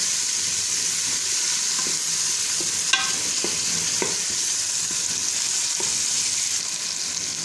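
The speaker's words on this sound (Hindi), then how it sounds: "अच्छी तरह से हम इसको मिक्स कर लेंगे।" Turnip curry with green chili paste being stirred in a hot pan, a continuous sizzle with occasional soft spoon scrapes and taps, close and even, without speech.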